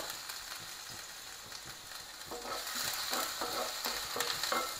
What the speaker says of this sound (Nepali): जिरालाई फ्राई गर्नेछु